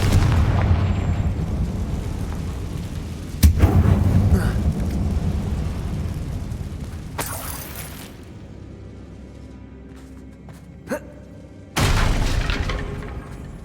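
An explosive Confringo spell goes off in Hogwarts Legacy inside a dark abandoned mine, heard as a sharp blast with a rumbling tail, followed by further bursts and clattering effects among quieter stretches.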